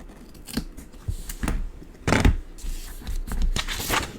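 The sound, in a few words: scissors cutting paper halfway across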